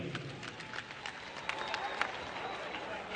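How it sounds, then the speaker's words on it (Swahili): Audience applause at a formal agricultural business event as guests enter, a soft, distant, continuous patter of many hands clapping with faint crowd murmur underneath. "Tuwapigie makofi wakiingia."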